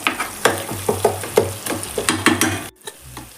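Tomatoes roasting in a pan with cumin powder and a pinch of kasuri methi for paneer gravy, a frying sizzle broken by repeated rhythmic spatula scrapes and taps, close and fairly loud, with no talk.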